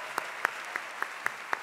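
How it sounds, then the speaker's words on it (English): Applause at a young leaders' town hall summit comes through as a short run of about six distinct, evenly spaced claps, fairly faint and sparse rather than a dense crowd roar. "Give them all a round of applause for speaking their opinions"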